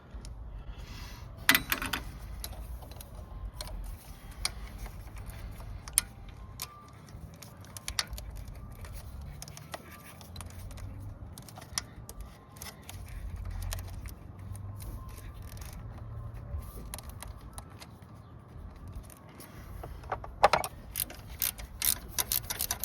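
Hand ratchet turning 10 mm bolts while removing the alternator on a Honda Civic, giving faint, scattered clicking and metallic taps over a low room hum, with a few sharper clanks near the end.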